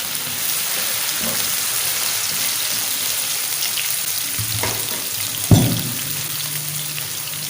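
Onions fry in a pan until half brown, a steady, close, rain-like sizzle throughout, with a couple of soft knocks and one louder clunk partway through.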